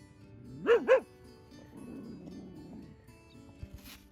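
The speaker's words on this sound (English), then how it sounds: "the dog father spotted someone and decided to bark" A stray dog, the father of a stray family in Ukraine, lets out two quick loud barks near the mic, followed by a low rumbling growl and faint background noise.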